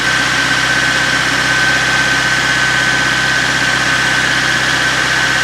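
Opel Kadett engine idles steadily after a carburettor adjustment, a loud close continuous mechanical drone with a humming whine, unbroken and without talking.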